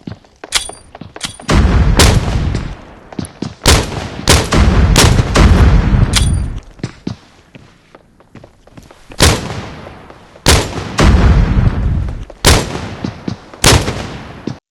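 Grenade blasts in a tactical shooter video game ring out as loud, repeated booms in quick bursts, with dense gunfire mixed in across the stretch and no talk over it.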